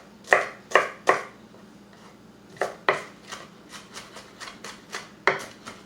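A knife dicing an onion on a cutting board makes crisp, close chops, three quick strokes followed by a steady run of lighter rhythmic cuts and a final firm chop, with no talking.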